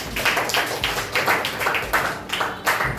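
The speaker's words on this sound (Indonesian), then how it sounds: "Kasih aplaus untuk kita semua dulu" A classroom group claps together in a steady run of quick, fairly close hand claps with a regular rhythm, keeping up without a break and sounding like short, lively applause.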